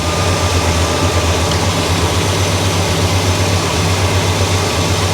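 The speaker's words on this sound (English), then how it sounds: "I need to turn the idle down just a hair. She's still a little bit too high." A 1965 Cadillac engine idles while its idle speed is adjusted, giving a loud, continuous low rumble with a steady drone and no clear change across the few seconds, close by.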